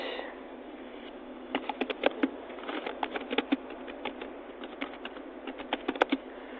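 Keys tapped on a computer keyboard in bursts of quick, light clicks, some closer together and a few louder strokes, over a faint steady hum with no voices.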